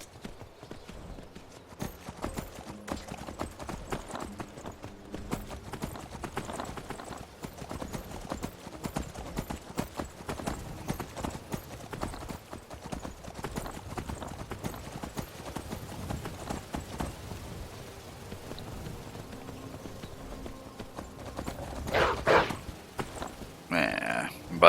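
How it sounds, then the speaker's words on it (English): A horse in the Skyrim video game clip-clops at a steady walking pace, its hooves moderately quiet and close, with occasional character voices and game sounds over the rhythm. "Glad I got a horse."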